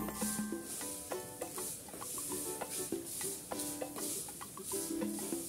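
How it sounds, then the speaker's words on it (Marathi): Vermicelli being stirred and roasted in ghee, with repeated rhythmic scraping strokes of a spoon against the pan over a soft sizzle, close and clear. "आपल्याला या शेवाळ्या अशा तुपामध्ये छान लाल होईपर्यंत परतून घ्यायच्या आहे."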